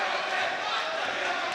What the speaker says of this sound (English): the crowd here getting fired up for the Lady Tigers